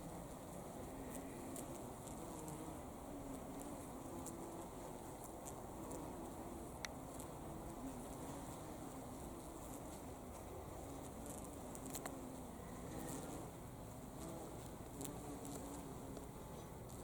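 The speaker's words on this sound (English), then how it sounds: "Busy, busy, happy bees." Bees buzz faintly around flowers in a kitchen garden, a soft, continuous drone with occasional brief louder passes over quiet outdoor background.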